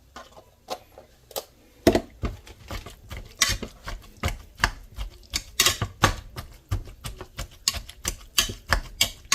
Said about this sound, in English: Now let's give it a mash.